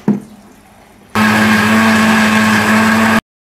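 A kitchen blender grinds dried chillies with a little water, starting abruptly after a quiet moment and roaring loudly and steadily with a strong motor hum for about two seconds before cutting off sharply.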